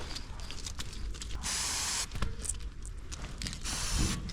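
A spray can hisses in a half-second burst, then again for a longer stretch, over faint background rustling.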